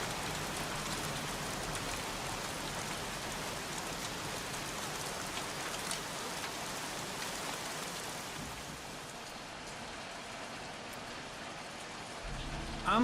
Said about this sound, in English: Can we get out of the rain?